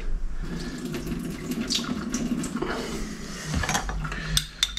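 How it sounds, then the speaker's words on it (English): Brine being drained off capers at an outdoor cooking setup, a steady trickling pour of liquid running for several seconds with small clinks near the end. "We've got our capers here. I'll just drain those a bit."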